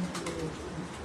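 Pet pigeons kept on a rooftop loft give low cooing calls over a steady background hum, with some faint voices nearby through the short moment.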